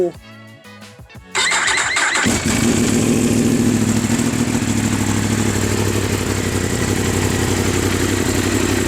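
A racing motorcycle with a carbon exhaust fires up after a brief quiet moment and roars loudly and steadily, a deep rumbling exhaust filling the rest of the clip.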